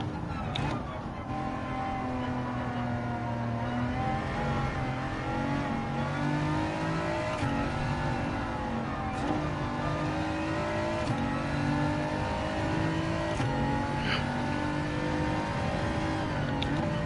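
Race car engines in Gran Turismo 7 during a Manufacturers Cup race, a GT-R among them, droning steadily with rising and falling revs through the whole stretch, with faint talk in the background.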